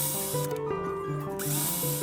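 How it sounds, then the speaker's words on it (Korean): A small power drill bores a hole into the head of a handmade decorative duck figure, giving a close, continuous whirring drone with slight pitch shifts for about two seconds. "그리고 꽃을 꽂아놓을 구멍을 뚫을 건데요."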